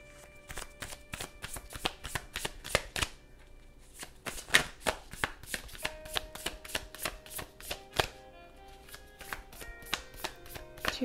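Tarot cards are shuffled close up, with a run of crisp, rapid riffling clicks and taps coming in irregular bursts and short pauses, and no talking over them.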